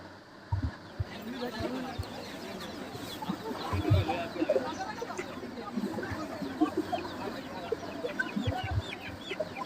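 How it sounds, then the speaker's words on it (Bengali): Chickens, including local hens and Pakistani cocks, cluck steadily at a busy poultry market in Sonargaon, Narayanganj, with dense overlapping calls and a low hum of crowd voices throughout. "এই পাশে মুরগি বিক্রি করা হয়, দেশি মুরগি, পাকিস্তানের কক মুরগি"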